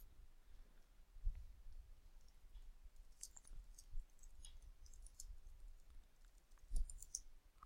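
A computer mouse clicking a Continue button: a handful of soft, quiet clicks scattered sparsely over a faint, low background.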